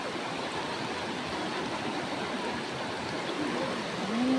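A strong river current rushes past in a steady, dense wash of water noise, close and continuous, with a faint tonal sound near the end.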